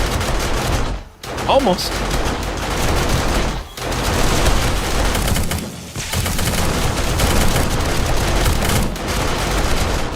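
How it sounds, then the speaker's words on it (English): Dense, nearly continuous automatic gunfire rattles loudly in the survival game 7 Days to Die, running modded with Undead Legacy, with only brief gaps, while a player briefly speaks. "See if anything actually makes it up for me to shoot."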